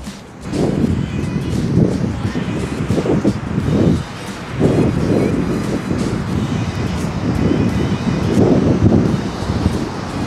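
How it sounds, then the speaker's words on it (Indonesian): Steady wind roars across the beach at Parangtritis with heavy ocean surf surging in repeated low swells, loud and close throughout with no clear talk. "Nah tuh pantainya tuh."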